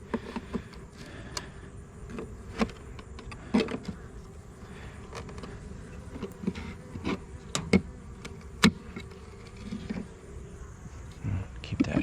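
Honey bees hum around an open Layens hive during a fall inspection, a continuous nearby buzz punctuated by sharp knocks and clicks of wooden frames, while a person talks over it.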